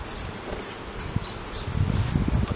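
Honeybees from a caught swarm buzz as they are returned to their hive spot, a close, fuzzy hum with brief bees passing the microphone, rustling and light wind noise underneath.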